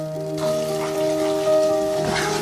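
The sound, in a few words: frying spice masala with garlic-ginger and green chili paste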